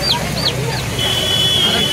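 Chickens at a busy poultry market give a few short clucks and squawks near the start, with a high steady whine and low market hubbub continuing underneath.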